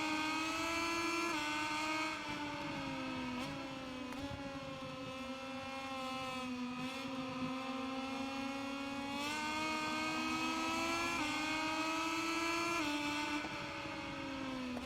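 Moto2 racing motorcycle engine from the MotoGP 21 game, a steady high-pitched whine that rises and dips with throttle changes and gear shifts throughout, loud and continuous with no talk.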